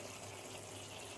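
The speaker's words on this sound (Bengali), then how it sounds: "সামান্য একটু জল দিয়ে দিলাম যাতে একটু সবজিগুলো সিদ্ধ হয়ে যায়, ঝিঙেটা আলুটা।" Warm water pours into a pan of ridge gourd, potato and poppy seed paste curry, a faint, brief steady trickle with no voices.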